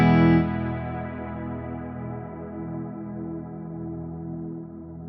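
Guitar through a Fractal processor's cumulonimbus expansive reverb without shimmer, a single struck chord blooming into a long, wide, smoothly decaying wash that sustains evenly for several seconds with no bright overtones.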